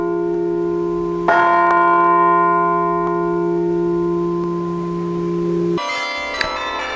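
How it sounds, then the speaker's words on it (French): A single large carillon bell strikes the hour and rings out with a long, resonant hum, then a second strike follows after several seconds, loud and close. "Une de mes missions notamment est de sonner les heures. Là, je sonne 3 heures."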